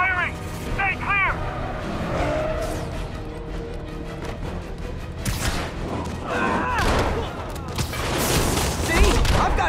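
Bursts of gunfire and heavy thuds in a Marvel's Spider-Man video game firefight, loud volleys clustered near the end, with voices shouting between shots and warbling whistle-like tones early on.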